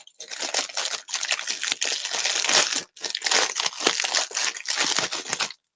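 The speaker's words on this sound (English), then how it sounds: "Sorry for the crinkles." Plastic packaging around a set of coasters crinkles and crackles up close in continuous bursts of handling, with one brief pause in the middle and no talking.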